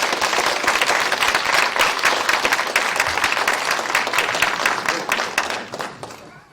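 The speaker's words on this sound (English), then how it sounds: "Can we give these wonderful people a round of applause?" A conference audience at an AI summit applauds a panel: loud, sustained clapping with sharp individual claps, some crowd voices mixed in, tapering off in the final second.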